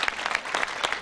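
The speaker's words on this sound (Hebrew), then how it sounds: "ועל זה מגיע לו באמת כפיים" Brief burst of clapping from a group of people at a square dedication in Or Yehuda, quick overlapping claps at close range.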